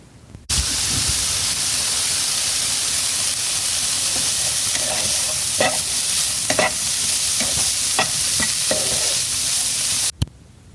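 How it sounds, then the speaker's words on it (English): Food crackles and sizzles loudly in a hot pan, a continuous hiss with scattered sharp pops, starting abruptly and cutting off near the end. "The crackling of the pan,"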